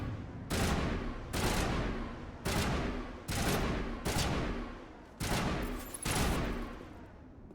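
Loud gunfire from the Mass Effect 1 video game in Legendary Edition: seven sharp, heavy shots spaced roughly a second apart, each ringing off briefly, with no talk.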